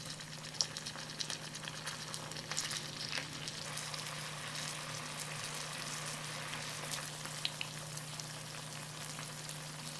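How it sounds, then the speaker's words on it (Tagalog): Pieces of food fry in a pan after being flipped to cook the other side, a soft continuous sizzle and crackle with light popping throughout. "Baligtarin natin para yung kabilang side maluto din"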